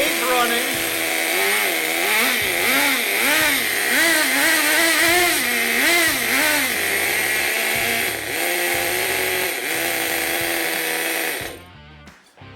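A revived Nitro Stampede RC truck's nitro engine runs loud and close, a high buzzing whine that wavers as the throttle is blipped, then cuts off abruptly near the end.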